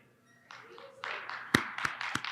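Scattered clapping from a morning conference audience on day three of an education event in Las Vegas, starting thin and building into several sharp, close claps over a soft crowd murmur.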